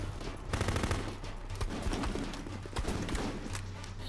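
Gunfire in the military video game Full Spectrum Warrior, rapid bursts of automatic shots crackling in clusters across the clip, moderately loud amid battle noise.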